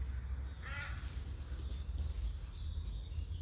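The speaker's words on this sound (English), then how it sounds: "Got birds chasing each other." Crows caw outdoors on a disc golf course while chasing each other, the calls faint and distant over steady wind and low rumble.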